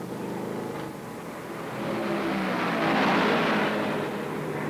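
A pack of 1968 NASCAR stock cars roars past on the track at the Rebel 400, a broad, steady engine drone that swells and peaks midway before easing slightly, heard at moderate distance with no voices.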